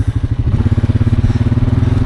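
A four-wheeler ATV engine idles and revs with a steady, throbbing putter, close by and loud, with no voices.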